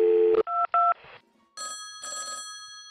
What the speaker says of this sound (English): Is that the phone ringing?